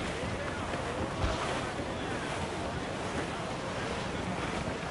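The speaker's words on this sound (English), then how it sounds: "The wind is picking up now!" Wind and sea under sail in Assassin's Creed 4 Black Flag, a steady roaring rush of wind and waves with no letup, loud and close.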